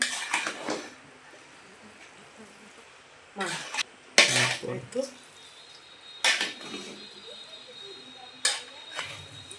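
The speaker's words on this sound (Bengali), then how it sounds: "এটা ভালোভাবে নেড়ে নিচ্ছি মিক্স করার জন্য" Beef being stirred and mixed in a pot, with a handful of scraping, clinking utensil strokes in separate bursts over a soft background hiss.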